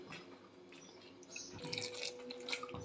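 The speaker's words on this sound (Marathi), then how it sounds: "मिक्सरचं भांडं धुवून घेते आहे." A mixer jar gets a rinse with water at a kitchen sink. Soft splashes and drips carry on throughout, faint and close by.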